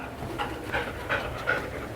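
A dog at a shed-hunting training session pants steadily and close by in quick rhythmic breaths, with no talking.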